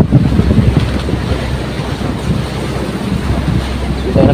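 Strong wind at sea roars steadily with gusty buffeting against the microphone, mixed with a low rumble of rough waves, loud and continuous throughout.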